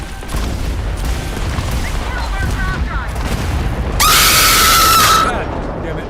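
A scream alert sound bursts out loudly for about a second during a Starfield game stream, over rumbling in-game booms and gunfire.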